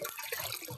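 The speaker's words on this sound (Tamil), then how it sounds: "தண்ணி 2 லிட்டர் ஊற்றுங்க" Water poured into a large cooking pot for boiling rice, a brief splashing pour, fairly close.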